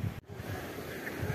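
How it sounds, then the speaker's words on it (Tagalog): Strong wind blows by a lake shore with waves, a steady rushing roar buffeting the microphone, broken by one brief dropout near the start. "Lumalakas masyadong hangin."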